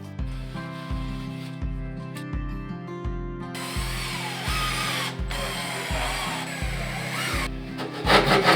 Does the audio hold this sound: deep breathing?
no